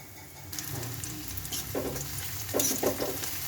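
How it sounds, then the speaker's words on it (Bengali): Onions fry in oil in a pan, with a steady close sizzle and a few stirring scrapes and clatters, moderately loud and without voices. "এভাবে পেঁয়াজ ভেজে নিবি আগে তোমরা।"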